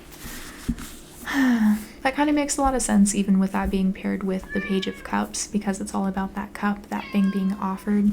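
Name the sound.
cat meowing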